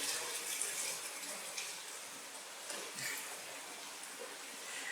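Steady rain falls outside a home at night as a broad, constant hiss of water with slight swells, moderately faint and without talk over it.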